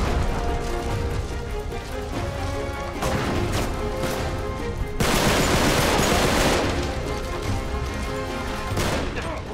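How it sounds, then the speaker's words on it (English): A grenade blast and gunfire in Uncharted 3: Drake's Deception, with dense crashing explosive noise and scattered shots running throughout, loud and continuous. "Let me throw the grenade."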